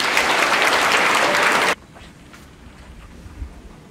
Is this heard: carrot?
no